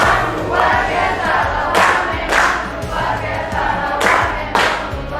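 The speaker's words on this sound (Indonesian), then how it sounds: "Kasih tepuk tangan dulu" A classroom of students bursts into applause and excited shouting for a classmate, loud and near, with clapping and cheers rising in several surges.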